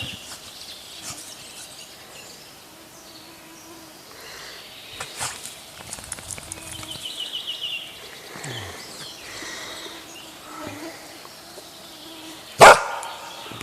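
A dog barks a few times outdoors on a fishing trip, mostly faint, with one sharp loud bark near the end amid quiet ambient noise and mosquitoes.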